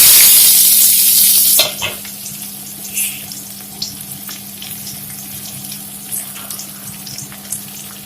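Onions dropped into hot oil with a halved dried chili, Assamese eggplant and fish dish: a loud initial sizzle burst that settles into steady frying crackle, with occasional stirring scrapes and a low hum underneath.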